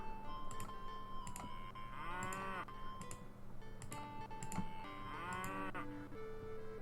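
Cattle moo twice in the Lords of the Realm strategy game, each a drawn-out low call, with computer keys clicking and tapping nearby throughout.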